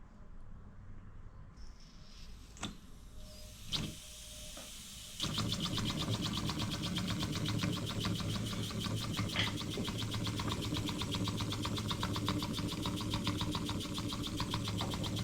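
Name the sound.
bar stock wobbler model engine running on about 5 psi air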